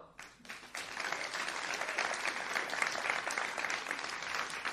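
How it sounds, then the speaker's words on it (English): An award ceremony audience breaks into applause as jury members are invited on stage, clapping starting after a brief pause and continuing strong and even to the end. "Please give a big round of applause for Aline Mugisho"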